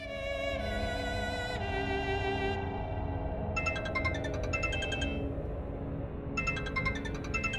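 A phone ringtone plays a repeating electronic melody, loud and close, with bright tonal phrases that pause and resume, over a steady low background hum.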